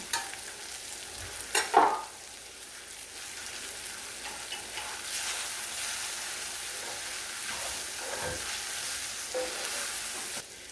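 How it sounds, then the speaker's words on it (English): Butter and garlic fry in a pan with a soft, steady sizzle, broken by a few sharp utensil clinks and stirring scrapes near the start and again later. "So I'm just going to add a little bit of knob of butter to this."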